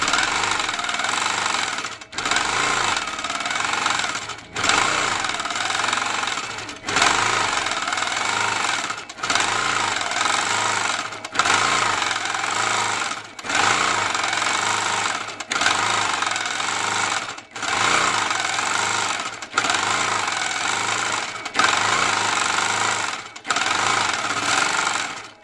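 A sewing machine quilting feathers along a scalloped quilt border runs in long, fast-stitching bursts of rapid mechanical hammering, each lasting a couple of seconds and separated by brief pauses, loud and close throughout.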